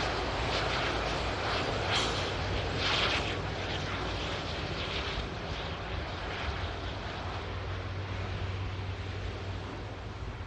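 A Saudi airliner taxiing for departure at Manchester Airport gives a steady, broad jet roar with a low hum, fairly loud and continuous throughout, with no voices.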